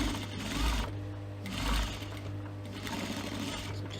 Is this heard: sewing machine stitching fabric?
yes